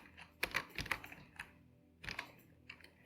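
Typing on a computer keyboard, with quiet, close key clicks falling in short uneven clusters, a brisk run of strokes followed by a pause and a few more taps.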